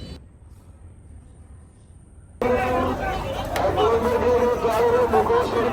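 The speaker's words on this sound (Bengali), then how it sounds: "এই বাজারে ভিড় অনেক বেশি" Crowd at a busy cattle market in Chittagong, Bangladesh: after a quiet start, dense, close babble of many voices suddenly swells and stays loud, with people talking nearby.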